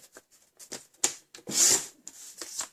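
A Stampin' Up paper trimmer blade slides through card stock in a few short, dry rubbing swipes, close and quiet, with one longer, brighter glide in the middle.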